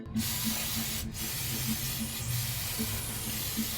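CVT cleaner is sprayed onto the dusty CVT of a Honda BeAT FI V3 scooter in a steady, close hissing burst that fills the whole moment.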